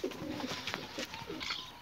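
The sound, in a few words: pigeons being let out of their coop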